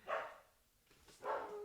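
Dogs barking together in two short, faint bursts separated by a brief pause, with no talking.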